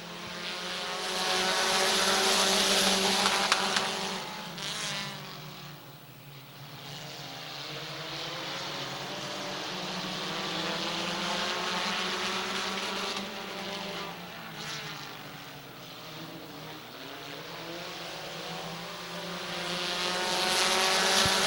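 Race cars roaring around Midvale Speedway under green-flag racing, a sustained loud engine drone rising and falling as the field passes, with no talk over it.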